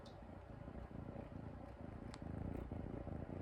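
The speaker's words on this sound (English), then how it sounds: "Can you hear her purr?" A cat purring close up, a low continuous rumbling with a soft rhythmic pulse, quiet and steady throughout.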